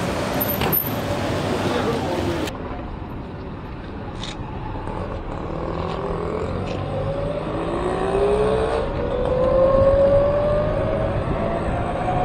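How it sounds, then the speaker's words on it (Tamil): An Ather 450 electric scooter rides along a road in Chennai, its faint motor whine rising gradually in pitch as it picks up speed, under broad wind and traffic noise. "இப்பதான் வந்து லைட்டா ஒரு வண்டியோட சவுண்ட் கேக்குது"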